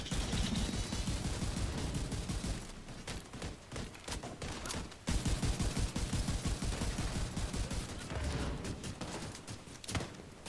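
Rapid, dense gunfire in a Dark Hours video game match, bursts of sharp shots, including a shotgun, crowding together at close range and pausing briefly before resuming, with no talk.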